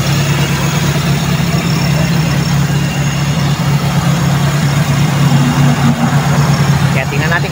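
A carbureted 4AF engine in a Toyota Corolla idles at around 800 RPM, giving a steady, close, low rumbling hum that holds even throughout with no revving.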